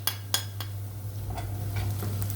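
Onion, garlic and dried coriander are stirred in a pan with ghee, with a few sharp utensil clicks at the start and then a soft, low sizzle with light scraping.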